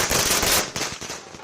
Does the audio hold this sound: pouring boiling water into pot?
no